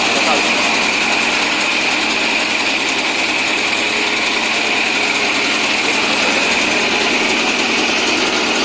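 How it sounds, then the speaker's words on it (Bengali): A large wooden engine boat's motor runs loud and steady throughout, a continuous high-pitched engine drone with no change in rhythm, heard close from on board. "আমি সেই ফেন্সগঞ্জ থেকে আসা একটি বড় কাঠের ইঞ্জিন নৌকা দেখতে পাই"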